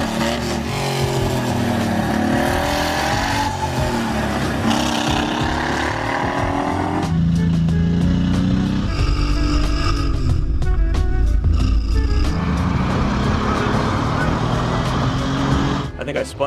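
A Datsun project car from a garage build drives a lap under its own power, its engine droning and shifting pitch loudly throughout, with a voice talking over it.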